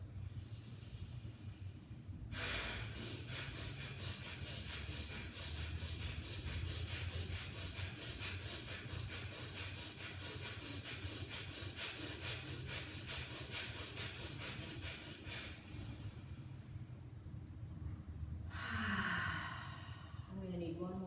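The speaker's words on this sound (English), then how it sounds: "Deep breath in first." Deep yoga breathing: a long, forceful stretch of rapid, rhythmic in-and-out breaths, loud and close, between brief pauses, with a separate breath near the end.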